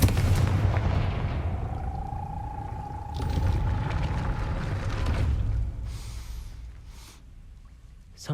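A Confringo fire spell blast from the Hogwarts Legacy video game, heard as a loud, booming burst with a rushing, sustained roar and a ringing tone, followed by further heavy impacts fading over several seconds.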